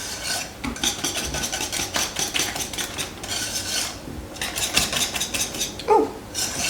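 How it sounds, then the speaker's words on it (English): Crepe batter whisked in a bowl, a steady run of scraping, clinking strokes against the sides that keeps going throughout, close and fairly loud, with no talk over it. "we're just going to whisk this together until it's well mixed"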